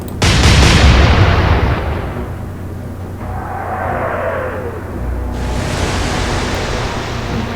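Naval guns boom in the Atlantic Fleet video game, a loud broadband blast that rolls into a long rumbling tail, followed by a whistling shell and a second burst of splash or impact noise.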